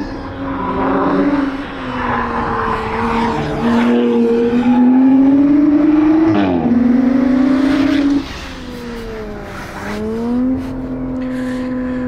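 A racing car engine, from a Suzuki SX4 S-Cross or Audi RS5 on a track, revs and climbs through gears with brief tire squeals, loud and close, sustained throughout with one drop in intensity partway.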